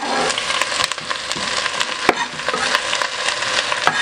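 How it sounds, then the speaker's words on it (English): Garlic, onions and leek sauteing in hot olive oil in a soup pot, a close steady sizzle broken by sharp crackles and spattering pops, with no talk over it. "That's just in some hot olive oil. Just going to saute that for a minute."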